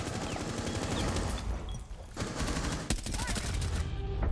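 Rapid, continuous automatic gunfire in Rainbow Six Siege on console, a dense stream of close, loud shots with a brief lull in the middle.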